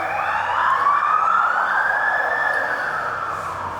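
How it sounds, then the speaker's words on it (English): A passing ambulance siren on the road by a main intersection sweeps upward in a long wail, fairly loud and alone over a background rumble, fading slightly toward the end. "Had me a little bit worried there for a sec, but it was an ambulance."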